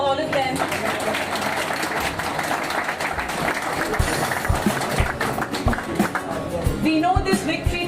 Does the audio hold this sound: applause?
yes